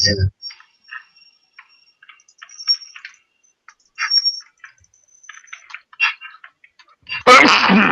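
A single sharp, close sneeze bursts out at the end of a quiet stretch filled with light game clicks and taps while someone plays Left 4 Dead 2.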